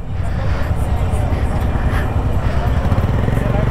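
Motorcycle engines rumble at a crowded biker festival, a loud, steady, dense drone of many bikes idling and revving together with voices in the background.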